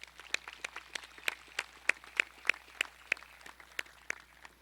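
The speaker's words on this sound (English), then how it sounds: "Let's give these students a round of applause" Sparse, faint hand claps at a high school graduation ceremony for graduating students, coming in a thin, even rhythm from only a few people.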